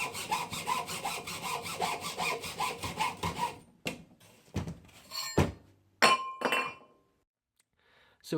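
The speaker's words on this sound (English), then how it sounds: "if we make a cut here on this vertical part" A saw cuts rhythmically through the metal exhaust header pipe of a VW Transporter T25 engine, steady rasping strokes for a few seconds, followed by scattered clinks and thunks of metal parts being handled.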